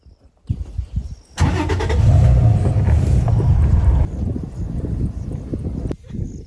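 An open safari vehicle drives across grassland, its engine rumbling steadily and loud close to the microphone with wind buffeting, then easing off before it fades.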